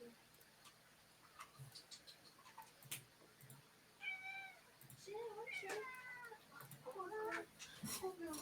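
A cat meows several times during a tabletop role-playing game session, with short rising calls close by amid scattered clicks and light table noises, and people talk faintly around it.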